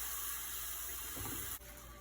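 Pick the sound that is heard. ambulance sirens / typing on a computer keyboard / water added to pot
water added to pot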